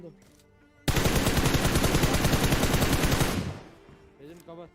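Rapid automatic gunfire in the video game PUBG near Pochinki, a loud sustained burst of about two and a half seconds, with a voice talking briefly before and after.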